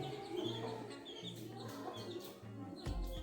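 Several chickens cluck and murmur in short, overlapping calls at moderate distance, with a louder thump near the end.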